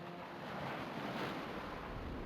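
Sea surf rolls against the North Sea coast of West Jutland as a steady, loud, broadband roar that swells slightly toward the middle, with no voices.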